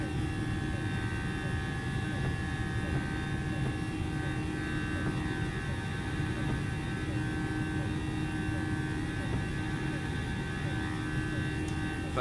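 An Airbus A321 airliner of Aer Lingus climbs after takeoff from Dublin in the X-Plane 11 flight simulator, its engines giving a steady, unbroken drone with a constant tonal hum and no talking.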